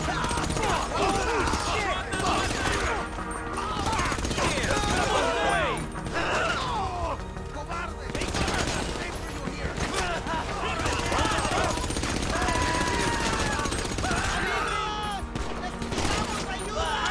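Rapid bursts of gunfire from the GTA V video game on PC, loud and continuous across the clip and layered with dense game effects, while players talk over it.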